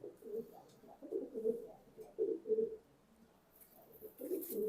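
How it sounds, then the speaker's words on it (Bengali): Soft, low cooing from big racing pigeons repeats in several rolling phrases, fairly close, with faint rustling in between. "বিগ সাইজের কবুতর"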